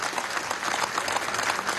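Applause for the Bolivarian National Armed Forces at an official event in Guayana, Venezuela, a dense, steady burst of crowd clapping with no voices over it.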